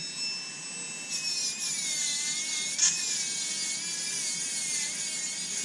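Fine green grit on a rotary polishing wheel working a silver ring, a steady high whine that runs on without a break throughout, close and even, with no talking over it.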